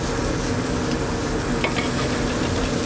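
Scallops searing in hot oil with thyme in a pan, a continuous close, loud crackling sizzle with no break.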